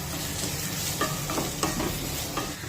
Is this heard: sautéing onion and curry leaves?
yes